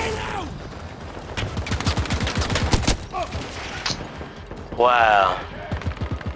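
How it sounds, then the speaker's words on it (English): Handgun fire in the Battlefield 2042 shooter game, rapid close cracks in quick bursts with some heavier shots, then a whooshing sweep, while a man exclaims once. "I'm shooting straight at him"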